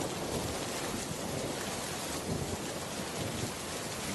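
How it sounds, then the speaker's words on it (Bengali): Rain and a thunderstorm in a Bangla cartoon, a dense, continuous hiss of heavy rainfall with a faint low rumble underneath, steady and unbroken throughout. "দেখ বৃষ্টি শুরু হয়ে গিয়েছে"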